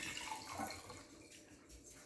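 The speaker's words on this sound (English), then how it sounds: "Next, I'm gonna pour very careful my vinegar" Vinegar poured from a container into a jar holding a raw egg, a soft continuous liquid trickle and splash, quiet and close, with no talking.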